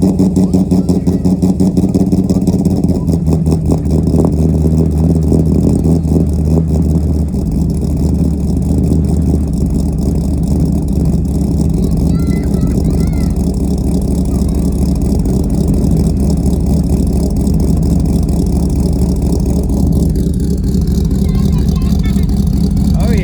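A Corvette C5 engine fires up and settles into a loud, steady idle close by, its rumble holding through the whole stretch, with a slight change in tone near the end.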